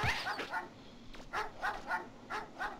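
Dogs in the video game Mega Man Legends bark in a string of sharp yips and bow-wows, several quick barks in a row spaced across a few seconds, fairly close with no talk over them.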